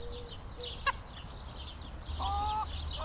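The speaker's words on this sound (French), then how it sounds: "Ce sont mes poules au départ." Hens kept at a high school to eat food waste cluck and squawk intermittently at moderate distance, with one sharp call and a longer drawn-out cackle over a low background rumble.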